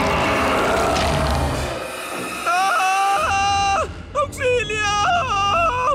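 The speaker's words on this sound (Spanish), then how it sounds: "Grita todo lo que quieras, muchachito." Shrill, wavering screams from an animated comedy character rise and fall in pitch over a few seconds, following a rough, noisy shout.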